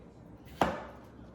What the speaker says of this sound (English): So I'm just chopping them in half.